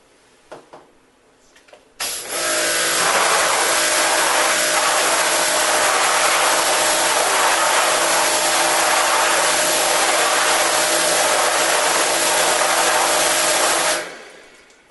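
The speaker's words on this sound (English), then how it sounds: "I want to step in and use the pressure washer and do a final rinse with that" A pressure washer sprays a final rinse over film during development, bursting on abruptly after a quiet start and holding a loud, steady, hissing roar for about twelve seconds before cutting off.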